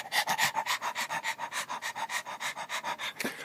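An old mutt named Rex pants close up in quick, even breaths, a steady rhythmic huffing that runs throughout, ending with a brief snort.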